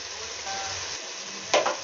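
A pinch of cumin seeds dropped into half a cup of hot oil, giving a close, steady sizzle with a brief louder crackle near the end.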